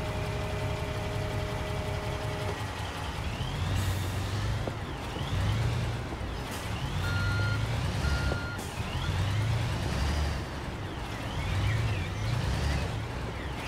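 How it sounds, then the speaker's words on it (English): A truck reverses in Construction Simulator, its steady backup beeps repeating over an idling diesel engine with an occasional air-brake hiss, close and continuous, with no talking. "Just got to move the truck a little bit."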